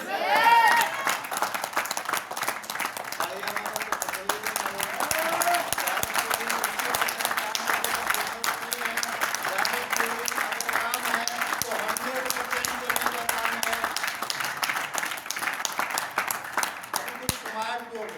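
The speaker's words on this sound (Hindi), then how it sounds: "ये तालियां बजानी पड़ेगी 2 दिन।" Sustained audience applause fills a direct-selling seminar hall for about eighteen seconds, steady and dense throughout, with a voice faintly audible over the clapping.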